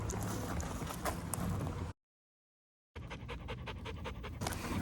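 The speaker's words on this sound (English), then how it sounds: "Well, this is my Old English Sheepdog, Sugar Bear." An Old English Sheepdog named Sugar Bear pants in quick, steady rhythmic breaths close up. The panting stops for about a second, then comes back just as loud.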